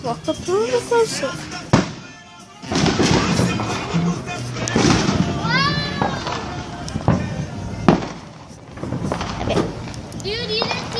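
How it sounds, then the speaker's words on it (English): Fourth of July fireworks bursting and crackling repeatedly in irregular bangs, with whistling rockets rising, while people talk and shout nearby. "Some more fireworks."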